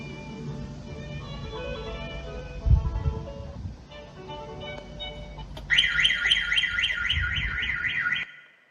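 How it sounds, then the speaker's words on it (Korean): Inside a daycare vehicle after the run ends, a melody plays for a while with a low thump, then the child-check alarm bursts in loudly with a rapid repeating warble of beeps until it cuts off, with no talk. "정상 작동하는 차량은 운행 종료 후 일정 시간의 음악 재생이 끝날 때까지 하차벨을 누르지 않으면 경보음이 울립니다"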